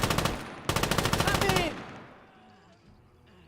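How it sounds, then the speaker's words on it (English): An MG34 machine gun in the Gates of Hell video game fires two loud, close bursts of rapid rounds, then a fading echo and quiet background. "Okay, so the MG34"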